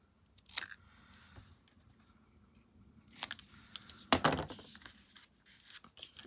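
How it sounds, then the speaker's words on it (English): Scissors snip through a stamped paper image in several short, crisp cuts with quiet pauses between them, close by and without speech. "I'm going to cut it apart."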